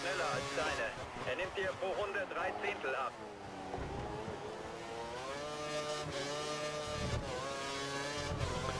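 An F1 car accelerates in the F1 2013 video game at the Bahrain race, a high engine whine rising through gears with pitch sweeps, played under steady spoken commentary.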